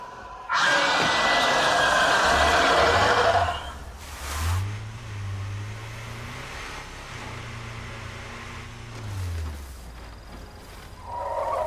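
Car engine in the survival video game State of Decay 2: a loud broadband roar at the start, then low engine drone that rises and falls in pitch several times as the vehicle revs and drives on.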